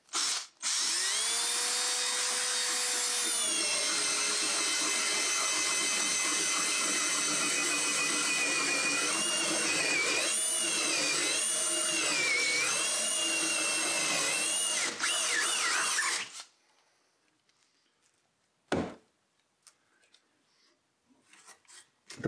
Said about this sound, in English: Pine shavings tend to build up in the drill bit, so just empty it out every once in a while.